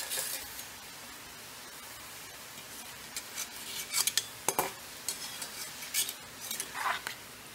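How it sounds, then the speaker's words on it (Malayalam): Thin, string-shaped homemade mixture snack fries in hot oil with a low, steady hiss, while a metal utensil clinks and scrapes against the pan in scattered knocks. "ഇപ്പോൾ നൂലി ഷേപ്പുള്ള മിക്സ്ചർ വറുത്ത് കഴിഞ്ഞു"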